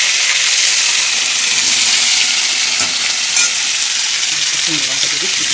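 Food sizzles and fries steadily in a pan in a home kitchen, a dense continuous hiss with occasional stirring knocks near the end.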